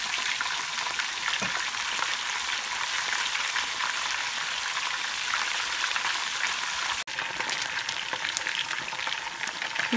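Thin beef strips fry in a pan with a steady, dense sizzle that holds at an even level throughout, close and unbroken, with no talk over it.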